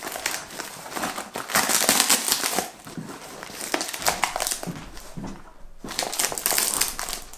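Crinkly crumpling and tearing of heavy tape and packaging as an iPhone X package is unwrapped, close up, in uneven bursts with brief pauses, plus a few quiet background sounds.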